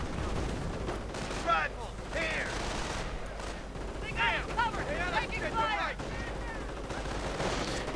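Mortar rounds and rifle gunfire crackle through a World War II strategy game battle, with scattered distant shots and thuds under steady commentary from a talking voice.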